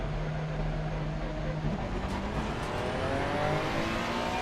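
A race car engine revs hard in Assetto Corsa Competizione at Imola, a steady continuous drone with rising harmonic sweeps that holds loud and even throughout, with no voices.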